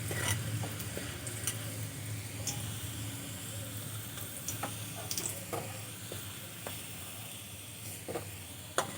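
Garlic sizzles as it fries in a pan, a steady crackling hiss with scattered pops and a few spoon-stirring clicks. It runs alone throughout at moderate, even loudness.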